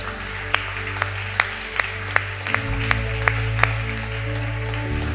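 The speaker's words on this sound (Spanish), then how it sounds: "le puedes dar un aplauso fuerte a Jesús" A church congregation claps for Jesus during a sermon, sparse sharp claps spaced irregularly over a low steady hum and sustained tones.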